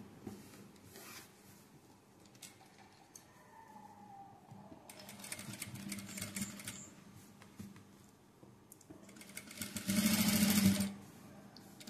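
A sewing machine stitching thread piping onto a blouse, running in several short whirring bursts that stop and restart, with the loudest run near the end.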